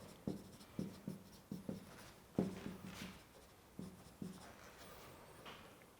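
Chalk or marker writing on a board in a lecture hall, a series of short tapping strokes and scratches at irregular intervals, moderately close, with no talking.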